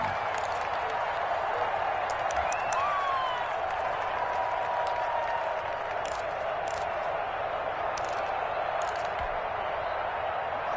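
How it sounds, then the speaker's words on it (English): A stadium crowd in a PS4 football video game keeps up a steady, wide roar of cheering and applause. Short bursts of higher crowd noise rise now and then over the constant wash. "The crowd may be losing just a little bit of the edge after back-to-back punts"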